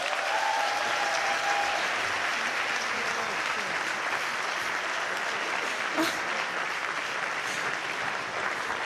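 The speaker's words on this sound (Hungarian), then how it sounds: "most jár nekik szerintem még egy taps" A seated crowd at a university students' winter camp gives a group a round of applause. Dense, even clapping fills the hall at a steady level for about nine seconds.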